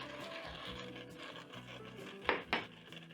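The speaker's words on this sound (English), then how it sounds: "Toss the beans together with the tomatoes." Beans being tossed together with tomatoes in a pot, soft wooden-spoon rubbing and scraping with a couple of sharper clatters near the end, quiet and close.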